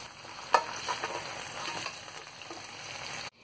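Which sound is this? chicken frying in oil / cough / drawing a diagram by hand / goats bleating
chicken frying in oil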